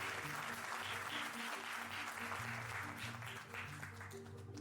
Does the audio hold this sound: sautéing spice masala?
no